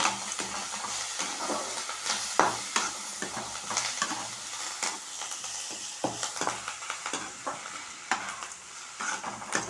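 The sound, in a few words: curry leaves stirred and roasted in hot pan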